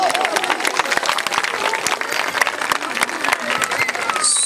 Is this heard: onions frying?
no